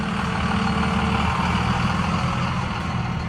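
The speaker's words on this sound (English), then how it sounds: "Noisy truck." A heavy truck rumbles by close to a parked car, a loud, steady low-frequency engine drone that fills the whole stretch with no speech.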